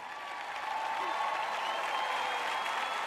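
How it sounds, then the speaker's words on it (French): An indoor audience at a church talk applauding, a dense, steady clapping that swells slightly and carries on without a break. "OK, applaudissez-les."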